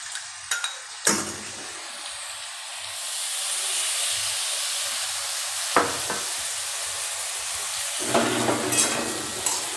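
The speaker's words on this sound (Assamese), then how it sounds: "আলুটো ফ্ৰাই হ'ব আৰু লগত যিটো পপি চিড আছিলে সেইটো অলপ ফ্ৰাই হৈ যাব" Potatoes and poppy seeds fry in a pan with a close, steady sizzling hiss, broken by a few sharp knocks and scraping stirs of a utensil against the pan.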